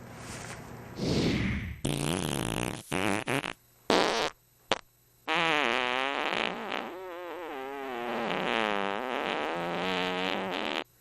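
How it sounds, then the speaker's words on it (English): A cartoon-style fart sound effect plays amid a busy mix of bursts and a long, loud warbling stretch of tonal noise, with no speech over it. "I would absolutely have more fart jokes, because that's what we need. More farts."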